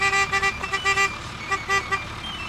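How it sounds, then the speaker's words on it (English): Truck horns honk on a cattle ranch to call cows in to feeding troughs, a series of short and longer toots in an uneven rhythm over a low idling engine. "We called them in with familiar trucks and horns"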